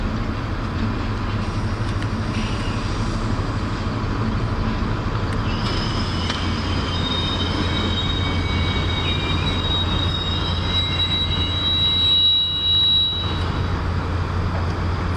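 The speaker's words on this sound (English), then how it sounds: "Very quiet locomotives these are." Locomotives passing through Leicester station: a low, steady rumble of diesel engines and rolling wheels, joined midway by a thin, sustained high-pitched wheel squeal that fades out before a brief dip in the noise.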